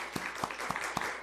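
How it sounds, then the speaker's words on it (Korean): Church congregation applauding a newly baptized member, a short, brisk burst of clapping with a few distinct claps standing out over a rougher patter of hands. "우리 크게 박수 한번 해주시기 바랍니다."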